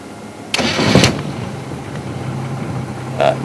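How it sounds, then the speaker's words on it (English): A car engine cranks and catches in a short, loud burst, then settles into a low, steady idle hum that runs for the rest of the few seconds. "let me just try and turn the car a little bit"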